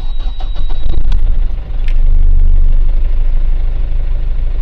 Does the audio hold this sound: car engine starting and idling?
yes